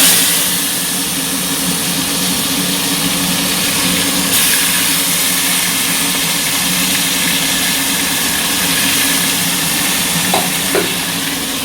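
Sliced ridge gourd and potatoes frying in oil in a pan with cumin, dried chilli and bay leaf, producing a steady, loud, close sizzle that runs without a break and has no talking over it.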